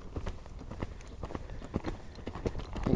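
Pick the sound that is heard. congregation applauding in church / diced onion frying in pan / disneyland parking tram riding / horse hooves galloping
horse hooves galloping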